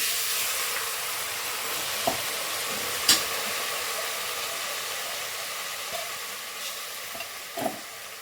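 Sprouted horse gram is added to a sizzling tempering with red chilli powder and fries in oil, giving a continuous soft hiss with a few faint clicks and taps from stirring and no voices.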